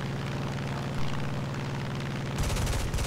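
An F8F-1 fighter's .50 cal machine guns fire in War Thunder, a dense, loud, rapid rattle over the steady aircraft engine drone, with a brighter burst toward the end.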